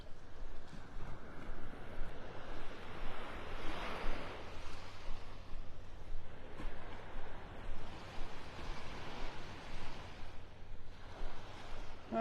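Surf washing ashore with steady wind across the microphone at Delnor-Wiggins beach in North Naples, Florida, a continuous broadband rush swelling and easing in slow waves, fairly faint, with no voices.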